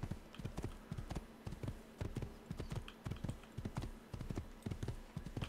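Horse hooves in an Assassin's Creed video game pound in a fast, steady galloping rhythm, close and clear, with no other sounds over them.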